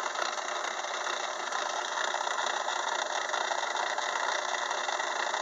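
A machine cutting a 64-tooth gear with a version 2 attachment gives a steady, continuous grinding whir that holds at an even level throughout, with no talk.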